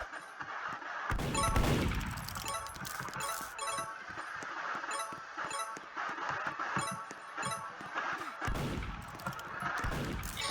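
Gunfire in the Roblox game Murder Mystery 2, a run of sharp clattering shots and metallic clinks with a few heavier crashes, irregular and close, under game music with no talking.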